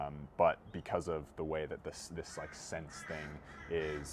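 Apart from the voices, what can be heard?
birds calling in the background, crows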